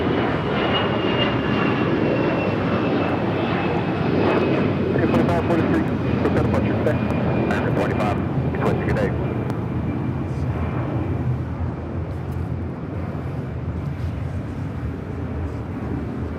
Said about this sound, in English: Next takeoff is Asiana, flight 988, heading to Beijing